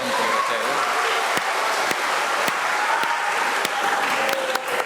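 Sustained applause from a church congregation at a Chinese New Year mass fills the space, a dense, even wash of clapping with a few sharper claps standing out, steady throughout with no talk over it.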